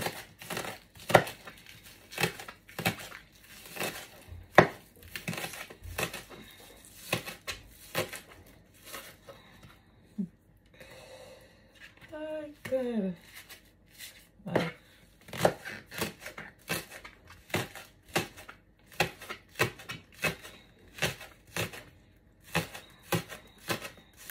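Food is cut up during breakfast cooking, with a steady run of sharp knife chops and crinkly handling noises, close and fairly quiet, pausing briefly midway.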